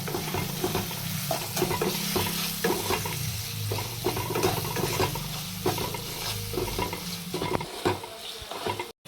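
Spice masala with sugar fries in a pan for doi potol, stirred steadily so a dense sizzle runs under repeated spatula scrapes and knocks, close and loud, with no talking.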